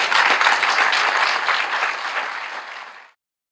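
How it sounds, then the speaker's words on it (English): A big round of applause from an audience, dense and loud at first, then gradually thinning before cutting off abruptly after about three seconds, with no voices. "So you should give yourselves all a big round of applause."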